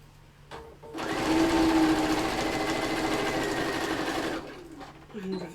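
A sewing machine runs a steady lock stitch on fabric for about four seconds, loud and close, between quiet moments where a voice is faintly present.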